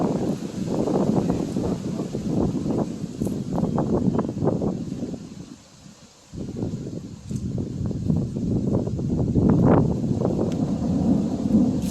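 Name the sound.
thunder after lightning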